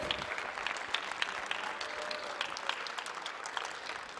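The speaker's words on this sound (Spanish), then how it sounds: "un aplauso para él" An audience at an award ceremony for a 2017 editorial arts prize claps steadily, a dense, even round of applause throughout with scattered sharper claps standing out.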